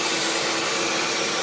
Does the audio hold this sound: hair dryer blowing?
yes